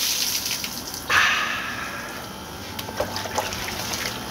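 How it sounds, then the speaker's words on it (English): Water from a tabo dipper splashes in an outdoor morning shower at a Philippine beach house: a sudden pour that tails off into softer trickles and drips. "I'm gonna have my little morning shower outside right here and get my day started."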